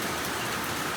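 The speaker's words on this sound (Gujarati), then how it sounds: "વરસાદ પાછું ચાલુ થઈ ગયું" Heavy rain pouring down, a dense, even hiss of falling water filling the whole brief moment, loud and close with no voices.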